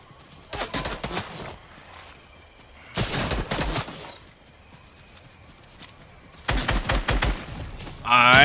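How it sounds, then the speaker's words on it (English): Rapid automatic gunfire from the Fortnite video game rings out in three loud bursts separated by quieter gaps, with game sounds and a brief electronic chirp at the end. "They're shooting at us, they're shooting at us."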